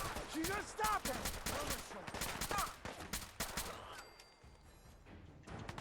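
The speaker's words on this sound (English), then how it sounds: "That was a lot of bullets I used to kill one guy." Gunfire in Fallout 4 survival mode: a rapid run of loud, close shots in quick bursts for several seconds, then tapering to sparse cracks, with voices talking over the fire.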